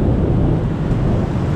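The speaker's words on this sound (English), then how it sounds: "The thunder and lightning is absolutely mental, so scary." Loud, steady roar of a heavy thunderstorm in Malaysia, with thunder rumbling continuously over dense pouring rain and wind, close and enveloping, with no talking.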